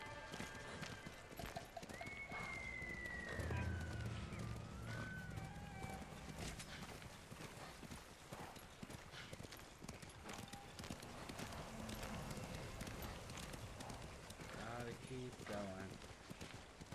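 Horse hooves clip-clopping at a run in the Ghost of Tsushima video game, with a whinny, steady over game music and ambience while a person talks.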